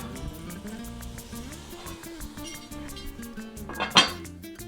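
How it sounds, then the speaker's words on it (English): Metal cookware clinks and clatters in a kitchen as a lid goes onto a cooking pot, a series of light taps ending in a sharper ringing clank, fairly quiet with no talk. "I'm gonna put the cover on it for a little bit just to cook it up faster"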